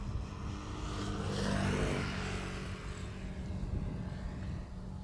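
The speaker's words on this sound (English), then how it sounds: "KLM flight 1375, E2 Embraer 195 to Bucharest" KLM Embraer 195 E2 jet spooling up for takeoff at Amsterdam Schiphol, a broad engine roar that swells toward the middle with a sweeping tonal whine, then holds steady.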